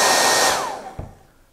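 A 1875-watt blow dryer whines loudly, then spins down as it is switched off, its pitch sliding lower as the sound fades, with a soft thump partway through.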